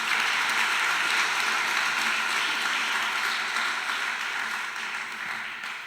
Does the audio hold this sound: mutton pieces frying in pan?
no